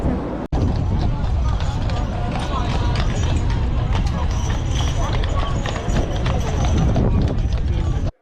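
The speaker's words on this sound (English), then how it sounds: "So we are going to the horse-drawn trolley car." Hooves from a horse-drawn trolley in Victoria, Canada clip-clop steadily on pavement amid the rumble of wheels and a busy background of crowd chatter.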